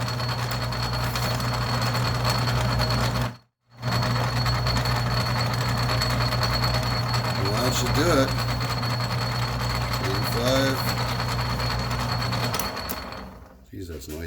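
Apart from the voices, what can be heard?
Atlas 10-D lathe parting off a lead screw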